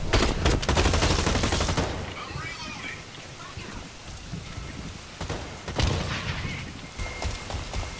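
Rapid bursts of SMG and shotgun fire in the video game Blacklight crackle in dense volleys, loudest in the opening seconds, then thinning to scattered shots and echoing booms.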